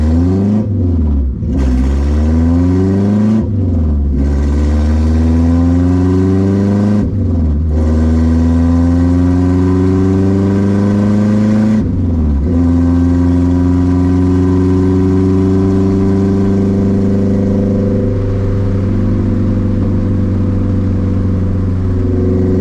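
K24-swapped Honda Civic engine while driving, loud and close, revving up through several gear changes with rising pitch sweeps, then settling into a steady cruising drone.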